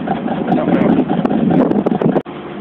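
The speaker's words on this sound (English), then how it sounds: "Look at this tractor." A single-piston tractor engine runs steadily close by, a continuous low rumbling drone with some wind buffeting, and it cuts out abruptly near the end before resuming briefly.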